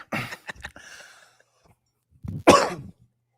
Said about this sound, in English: I literally was just coughing